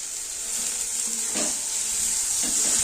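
A steady, close sizzle of taro stolons and dried fish frying in a pan, with a couple of soft stirring scrapes and no talking.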